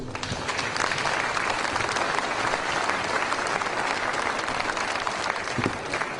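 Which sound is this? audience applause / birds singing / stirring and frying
audience applause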